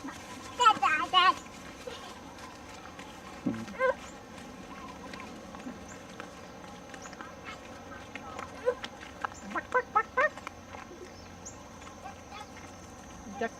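Ducks call at Ulu La'Au Waimea Nature Park in Hawaii, giving sharp quacks in short bursts, some clustered and some isolated, close to moderately near, while people talk nearby.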